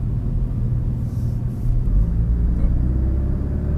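A 2019 Porsche Cayman 718 sports car cruises along a winding road, its engine a steady low rumble heard from inside the cabin, swelling slightly partway through, with no talking.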